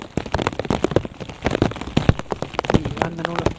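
Rain patters and crackles on a surface at a rally stage, Rally de La Llana, as dense, uneven close drops with occasional sharper taps and no speech.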